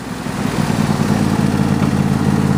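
A John Deere E120 lawn tractor engine runs steadily at idle with a low, even mechanical drone, close and loud throughout with no voices.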